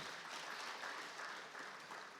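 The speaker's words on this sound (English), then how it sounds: "Please clap if you want to." Faint, steady applause from an audience at an agricultural conference session, continuous and distant with no voices over it.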